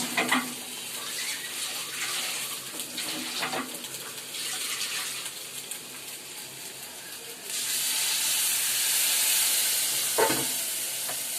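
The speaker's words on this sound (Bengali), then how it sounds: "প্রথমে পেঁয়াজ দিচ্ছে, পেঁয়াজ আদা রসুন কষানো হচ্ছে।" Onion, ginger and garlic fry in oil with a continuous close sizzle, occasional stirring scrapes, and a louder hiss rising toward the end.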